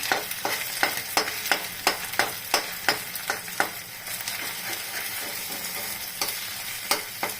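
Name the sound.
cauliflower and egg bhujia stirred while frying in oil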